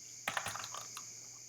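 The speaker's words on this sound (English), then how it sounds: "punch in your password." A password is typed on a computer keyboard as a short run of soft, quick key clicks, close and quiet, with a steady electronic hum underneath.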